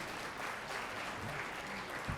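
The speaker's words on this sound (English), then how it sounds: "Give everyone a round of applause." A crowd applauds at the 2021 NYS MWBE Champions Awards Gala, giving a steady, dense round of clapping that fills the whole short stretch at moderate loudness, with no voices over it.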